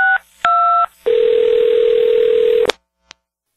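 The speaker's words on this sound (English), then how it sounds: "So let's get Allison on the phone" Short electronic phone tones beep twice, then a steady, loud telephone tone holds for about a second and a half before cutting off with a click.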